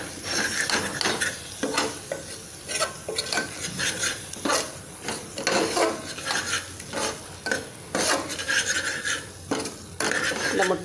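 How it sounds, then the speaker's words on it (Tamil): Masala sautéing in a pan on low flame for egg kurma, a soft sizzle under repeated scraping and clinking stirs, close and uneven in rhythm, with no voices. "இங்கே நல்லா கொஞ்சம் நேரம் மசாலா வதக்கிக்கலாம். அடுப்பை சிம்மில் வச்சே வதக்கிக்கலாம்."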